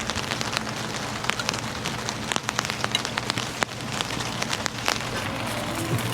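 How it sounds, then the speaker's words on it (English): Rain falls steadily on surfaces outdoors beside a cooking fire. Close, dense pattering and sharp drip ticks run throughout with a low continuous hiss, and there is no talking. "A little rain ASMR."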